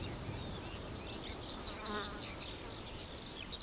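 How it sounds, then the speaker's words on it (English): A bee buzzing steadily as it arrives at a garden sage flower, a continuous soft insect drone with fluttering wingbeat tones, fairly quiet against a faint outdoor background. "If a bee with pollen in its body now arrives,"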